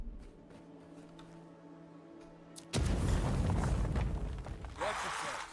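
A grenade detonates in the fantasy game Avowed, a sudden loud broadband blast that starts partway through and keeps rumbling, with a second burst near the end after quieter game ambience.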